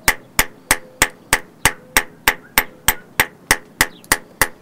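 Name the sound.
small hammer blows flaring out knife steel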